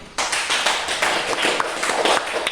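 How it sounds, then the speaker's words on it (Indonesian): A group of people in a school classroom gathering claps hands together, a dense, lively burst of applause starting abruptly and continuing steadily with uneven peaks. "Kita tepuk tangan dulu."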